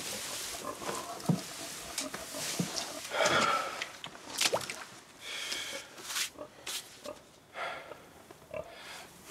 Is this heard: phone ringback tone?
no